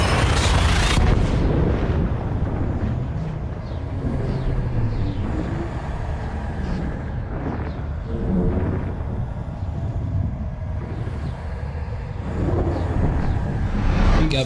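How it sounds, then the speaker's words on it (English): Frame shift drive charging in Elite Dangerous aboard a Type-9 ship, a loud rumbling roar that swells and surges with deep booming layers, continuous and close, ending in a sharp burst. "Frameshift drive charging"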